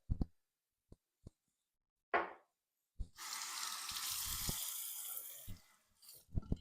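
A single edge razor rinsed under a running tap, a few sharp taps and clicks, then a burst of gushing water for about two seconds, close and fairly quiet.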